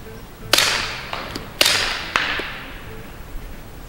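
Two quiet, muffled suppressed rifle shots with subsonic ammunition, spaced about a second apart, each followed by a soft, faint thud of impact in the distance.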